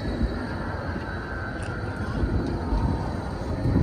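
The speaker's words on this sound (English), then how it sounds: "I love the trams, look, electric" An electric tram passes on a street in Brno, Czech Republic, a steady broadband rumble and rolling hiss with faint high squeals, loud and close, gradually swelling.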